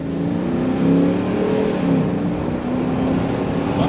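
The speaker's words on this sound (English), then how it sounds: "Let's give it some gas here." A 2022 Ram 2500 Power Wagon with a 6.4L V8 revs and accelerates, a steady loud engine drone rising in pitch as the truck pulls away, heard from inside the cab.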